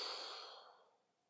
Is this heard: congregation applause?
no